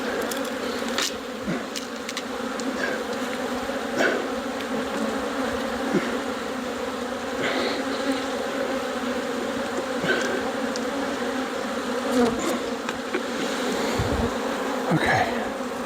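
Honeybees buzzing steadily in an open hive full of brood, pollen and honey, a dense continuous hum with individual bees zipping close past.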